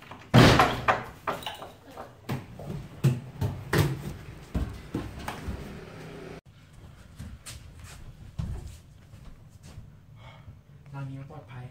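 A house door in a Thai drama opens with a series of loud, close knocks and bangs over several seconds before things go quieter, while voices speak over it.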